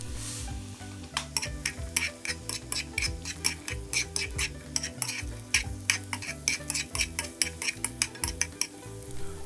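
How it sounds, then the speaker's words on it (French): Carrot sticks sauté in oil in a pan with a constant sizzle, and a rapid, rhythmic run of sharp utensil clicks against the pan begins about a second in and continues to the end. "On remet un peu d'huile et on va y déposer nos bâtonnets de carottes. On met un peu de sel et on va faire revenir nos carottes."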